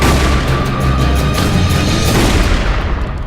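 A loud gunshot boom from the True Grit trailer, a deep blast with a rumbling low tail that sustains for a few seconds before fading, heard alone with no talk.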